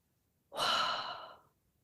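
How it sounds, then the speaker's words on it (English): A single long breath, one soft airy exhale lasting about a second, close and quiet against near silence. "is the sound of breathing."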